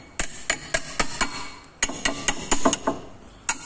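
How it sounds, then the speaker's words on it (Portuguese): A small hammer taps a stuck brake pad on a 2019 Fiat Argo, giving a dozen or so sharp metallic knocks in irregular bursts, close and fairly quiet with no voices. "Você tem que dar uma pancadinha pra ela soltar"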